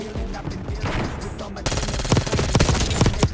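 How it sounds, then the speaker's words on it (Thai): Rapid automatic SMG fire in the shooter game Call of Duty Black Ops 6: dense bursts of shots crackle loudly in the second half, following a murkier stretch of game sound. "เอา SMG ยิงจากระยะล้านเมตร"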